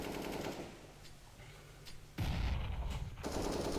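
Gunfire from a wallbang through a wall in CS:GO comes as sharp rapid shots, first quieter and distant, then a sudden loud close burst of automatic fire that keeps going with brief breaks.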